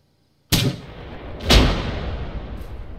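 Weapon fire aimed at enemy troops in the military shooter Arma 3, with two loud, close booming shots about a second apart and a long rumbling tail, then a faint third report.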